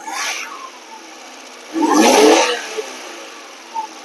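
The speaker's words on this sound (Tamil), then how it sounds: "இப்போ நான் ரேஸ் பண்ணுறேன் ரேஸ் பண்ணும்போது வோல்டேஜ் கொஞ்சம் ஏரியாகும்" A car engine idles faintly, then revs once in a short swell of rising, roaring engine noise that settles back to idle, while voltage is checked with a Bluetooth OBD tool.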